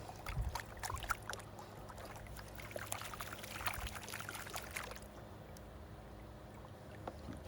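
Water sloshes and pours in a safety pan while gold is panned, soft swishing and trickling splashes close by for about five seconds, then the sound drops to quiet.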